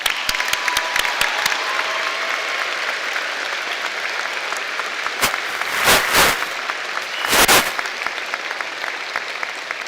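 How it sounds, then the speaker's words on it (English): Steady applause from a large commencement audience for graduates, dense and continuous for the whole stretch, with a couple of brief louder swells near the end. "give these graduates a very, very special round of applause"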